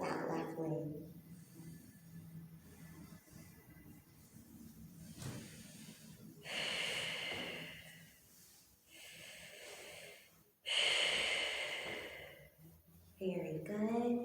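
Breathing during a yoga and Pilates flow: several loud airy inhales and exhales through the nose and mouth, heard close with snort-like texture, alternating with an instructor talking.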